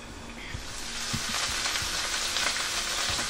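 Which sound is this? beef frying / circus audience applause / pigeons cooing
beef frying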